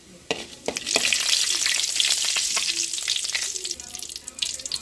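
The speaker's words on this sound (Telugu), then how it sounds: "ఇంకో స్పూన్ ఏమో తాలిం గింజలు వేసుకుందాం ఇంకా అర స్పూన్ ఏమో జీలకర్ర వేసుకొని బాగా ఫ్రై చేసుకుందాం" Seasoning seeds and cumin crackle and sizzle in hot oil, with sharp pops at first, then a steady close hiss as they are stirred.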